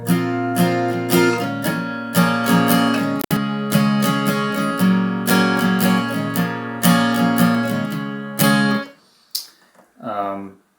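An acoustic guitar plays the closing line of the carol Star of Wonder, strummed chords ringing in a steady rhythm, close and loud; the last chord is let ring and fades out, and a short voice follows near the end.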